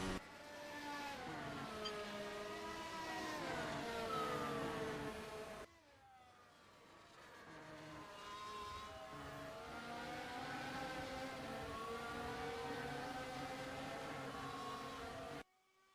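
An F1 car engine in a racing video game, heard as a sustained high-pitched whine with rising and falling pitch through the pit lane, briefly cut off midway before resuming with steady, close, loud harmonics.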